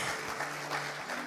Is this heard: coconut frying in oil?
no